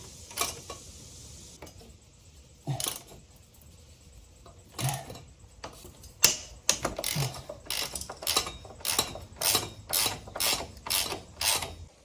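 Ratchet wrench loosening 17 mm and 14 mm bolts on a Honda CBR600RR motorcycle, a run of quick clicking ratchet strokes, sparse at first and then steady and rhythmic near the end, close up with no talking.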